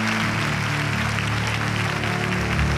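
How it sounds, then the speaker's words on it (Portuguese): Church congregation applauding, a steady dense wash of clapping over a sustained musical backdrop with a low droning tone, even and continuous throughout without speech. "Você pode aplaudir a Ele por isso?"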